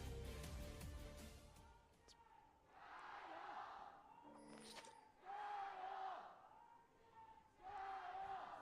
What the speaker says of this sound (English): You can hear the RNG crowd getting louder and louder.